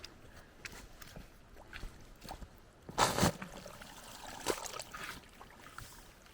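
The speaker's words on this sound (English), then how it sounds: "That's a big waterfall now." Water pours off the end of a freshly dug trench in a small waterfall, a steady trickling wash with a louder gushing burst partway through, heard close by and alone.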